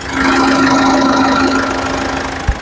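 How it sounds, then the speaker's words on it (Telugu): A 2015 Ford EcoSport Trend engine idles close by with a steady, even hum and low mechanical drone, holding constant before a small knock near the end, with no talking. "ఇంజన్ అయితే చాలా సైలెంట్ ఉంది, మీరు వినొచ్చు"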